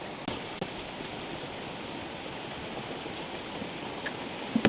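Heavy rain falls steadily in a forest around a hut, a soft, even hiss with a few faint clicks and taps.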